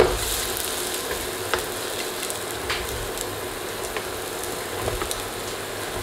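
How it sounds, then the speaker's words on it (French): Apple fritters frying in oil in a small pan, giving a steady, soft sizzle with occasional brief crackles and pops throughout, close and moderately quiet, no voices. "Et on fait revenir un peu d'huile. Et on le cuit tout simplement."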